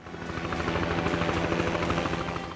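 A helicopter lands at sea as a ship's quick-capture claw grabs it, the rotor chop a steady rapid pulsing beat that holds loud and constant throughout.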